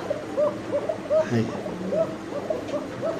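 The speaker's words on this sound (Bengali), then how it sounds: "দর্শক ফিরোজ ভাইয়ের হাতে আছে এক পিস কবুতর" Pigeons for sale at a market coo close by in soft, repeated throaty phrases, with voices murmuring in the background.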